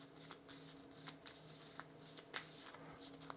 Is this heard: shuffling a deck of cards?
yes